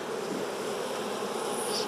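Dense, steady buzzing of many honeybees at an opened, smoked hive with a swarm being inspected, close and continuous with no voices.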